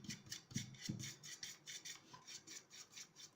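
A paintbrush dry-brushes chalk paint onto smooth MDF in quick, faint, rhythmic scratchy strokes, about a dozen brisk rasping passes back and forth, close and quiet.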